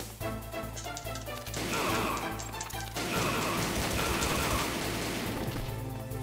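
Gunfire in the PS1 game Metal Gear Solid comes as dense, crackling bursts of rapid shots over a low droning background, first a short volley and then a longer sustained stretch.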